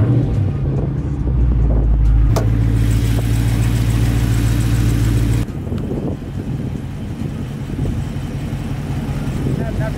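A 2020 Dodge Charger 392 Scat Pack Widebody engine idles steadily with a low hum, joined by a brief higher whine partway through, then continues more quietly with faint shuffling.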